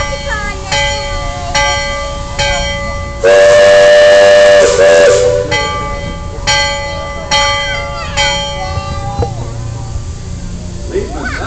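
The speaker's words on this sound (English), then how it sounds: "Sound last bell." On a boat, a bell rings in a series of evenly spaced, ringing strikes, broken midway by a loud, sustained whistle blast, with engine noise steady underneath.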